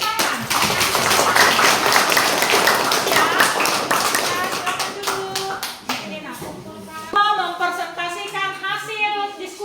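A classroom group applauds after a student presentation, a burst of brisk, fairly close clapping that thins out into scattered claps, with voices talking over it toward the end.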